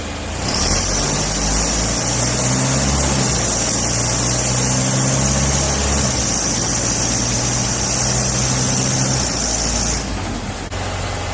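Car engine running hard on a chassis dyno, with loud, steady drive and low rumbling tones that step down and climb again as the transmission shifts through the gears, holding strong before cutting off near the end.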